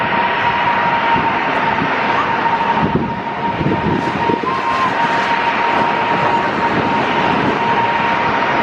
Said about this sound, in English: Should we have a video of the landing here?